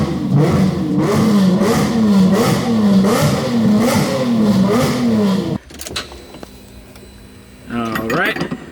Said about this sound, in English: This sounds like a race car